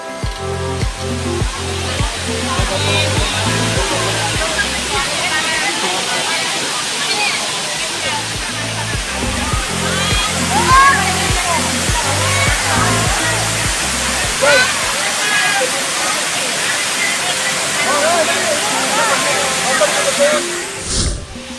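A broad, constant roar of water pouring down Labasin Waterfalls beside an open-air restaurant at Villa Escudero, loud and close, while people talk under it and a rhythmic musical beat runs through the first half.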